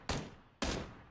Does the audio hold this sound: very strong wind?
no